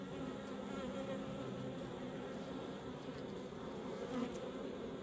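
Bees inside a beehive make a continuous, dense buzzing drone, steady and close, with no voices.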